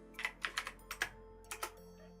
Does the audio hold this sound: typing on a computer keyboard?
yes